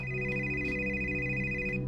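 A telephone rings in a Hindi cartoon, a steady, bright electronic tone held continuously at moderate loudness without pauses.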